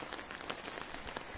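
Rain patters softly and steadily on surfaces outdoors beside an Infiniti QX56 SUV, a faint, dense hiss of drops with small scattered taps and no voices.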